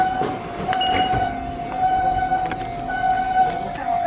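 Train at Enoshima railway station in Japan, a steady rumble with a sustained high tone and brief clinks, heard close and continuous for a few seconds with faint background voices.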